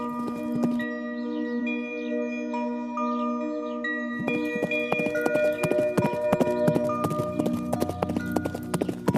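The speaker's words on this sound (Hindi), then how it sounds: "दौड़ शुरू हुई, घोड़ा आगे बढ़ा।" Horse hooves clip-clop in a fast, even rhythm as a race begins, loud and close over a bright musical backing in a children's story sound effect.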